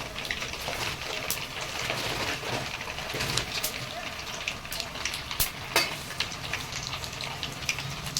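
Mustard seeds, cumin and onions frying in hot oil for a tomato chutney, a busy close crackle with sharp spattering pops throughout and a voice faintly underneath.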